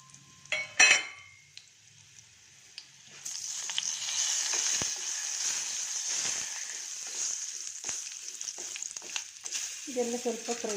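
Whole spices, bay leaf, black cardamom and cinnamon, hit hot oil in a pan with a brief clatter, then settle into a steady, fairly loud sizzle, with a few metallic scrapes near the end.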